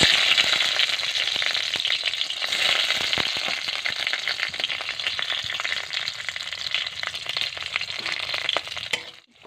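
Five-spice and slit green chillies fry in hot mustard oil, giving a loud, steady sizzle dense with tiny crackles and pops. It carries on without a break for nine seconds and then cuts off abruptly.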